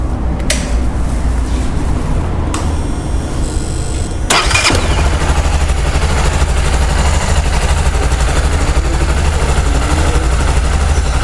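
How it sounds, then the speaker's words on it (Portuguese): A motorcycle engine cranks over and catches at about four seconds, then settles into a steady, loud idle that runs on to the end, with an earlier brief crank attempt and a low hum before it starts. "Como essa moto está pegando, eu vou dar partida nela para a gente testar"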